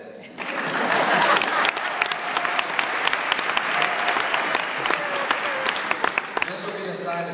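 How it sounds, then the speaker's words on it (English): A large crowd at a graduation ceremony claps loudly and steadily for several seconds, a dense, sustained round of applause filling the room after a brief quiet start. "I would appreciate a thunderous round of applause after everything I say"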